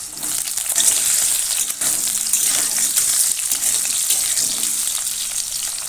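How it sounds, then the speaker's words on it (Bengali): Potato pieces frying in hot white oil in a wok give a steady, loud, close sizzle with a bright hiss, continuous throughout with slight swells and no talk. "কড়াতে সাদা তেল দিয়ে দিলাম তেলটা গরম হলে দিয়ে দিচ্ছি আলু"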